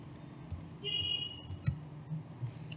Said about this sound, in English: So just click on the root user and type in the password.